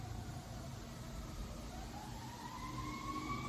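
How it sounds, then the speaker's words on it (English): Emergency vehicle sirens wailing outdoors in the distance, rising tones sweeping faintly beneath a low steady background hum, with no talking. "Oh, are those sirens?"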